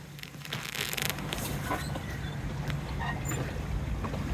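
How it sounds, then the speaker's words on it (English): Sailboat running wing on wing with wind and current off the north coast of France in the English Channel, a steady broadband rush of wind and water along the hull, continuous and fairly loud throughout. "Sailing wing on wing along the north coast of France."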